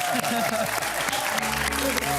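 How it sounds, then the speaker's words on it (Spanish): Steady applause fills the space, dense clapping from a crowd with a few voices mixed in underneath. "Y este aplauso fuerte"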